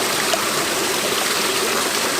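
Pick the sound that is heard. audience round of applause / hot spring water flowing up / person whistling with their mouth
hot spring water flowing up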